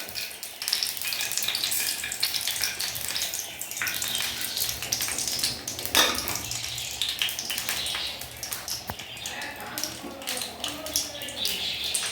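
Mustard seeds and urad dal sputter and crackle in hot oil, the first step of an avarai paruppu kuzhambu. The steady sizzle carries scattered sharp pops throughout.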